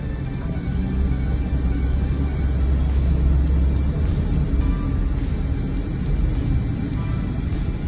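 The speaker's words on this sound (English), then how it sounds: "Driving up the hill and it's still doing 60, pretty good." A Hummer H1 turbo diesel station wagon climbs a hill at speed, its engine giving a steady low rumble with heavy road and wind noise heard from inside the cabin, continuous and fairly loud.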